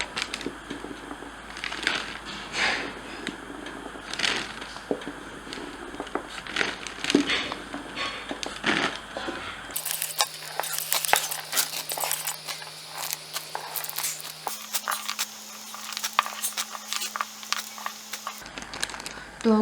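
Frozen green peas poured and shuffled into a zipper seal pouch, giving loose crinkly rattling and plastic crackle up close, with a steady low hum entering partway through.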